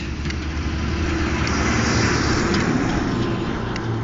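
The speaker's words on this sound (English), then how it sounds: "There's a garbage truck coming, so it's going to be a little bit loud for a second" A garbage truck's engine rumbles steadily and loudly nearby as it drives past, a constant low roar that stays close for the whole stretch.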